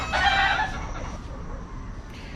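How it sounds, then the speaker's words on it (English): A rooster crows next door to a musty Airbnb in Sayulita, one loud harmonic call in the first half that trails off into quieter farmyard background, with no talk. "There's chickens next door"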